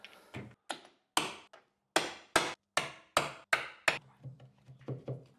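A hammer drives a corner chisel to square off a door hinge recess, about ten sharp, close knocks in an uneven rhythm with short pauses, the last few lighter and ringing.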